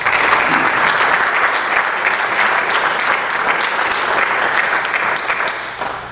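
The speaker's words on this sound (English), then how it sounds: "I'd really like to applaud their efforts." Sustained applause fills a community budget meeting room, dense and loud clapping from many hands that runs steadily throughout and tapers slightly at the end.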